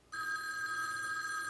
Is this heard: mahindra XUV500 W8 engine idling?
no